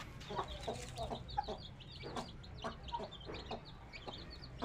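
Burmese fighting chickens, a hen with her six chicks, clucking steadily and close by, with soft chick peeps and repeated short clucks over a low background hum.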